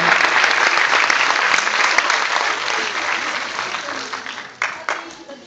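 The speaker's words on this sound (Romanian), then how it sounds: "Eu aș fi simțit să-i aplaud așa din tot sufletul, încă o dată, pentru că au fost minunați cu toții." A theatre audience applauds warmly at a premiere, dense sustained clapping filling the hall before it thins and breaks into a few scattered claps at the end.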